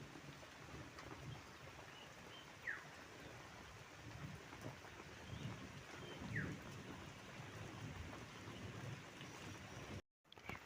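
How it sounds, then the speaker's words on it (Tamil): Steady rain falls outdoors at a rural home, a drizzle thickening into heavier rain with a continuous hiss and patter, a faint rumble of thunder beneath and a brief dropout near the end. "கொஞ்சம் தூறல் கொஞ்சம் அதிகமாக வர ஆரம்பிச்சிருச்சு பாருங்கள்"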